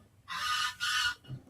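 Ducks give two loud, close, raspy quacks in quick succession, followed by a brief softer low call.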